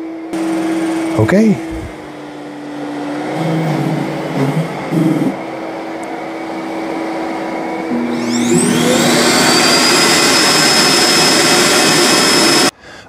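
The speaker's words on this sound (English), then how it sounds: "the Roomba is done, and it's going to go back to the dock and self-empty" An iRobot Roomba j5+ robot vacuum docks and self-empties, starting with a low motor whir under a brief spoken word, then swelling into a loud, steady roaring suction with a high whine that runs for several seconds before cutting off abruptly.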